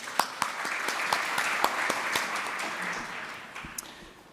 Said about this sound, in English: I would like you to join me also in giving an applause to everybody who has contributed to the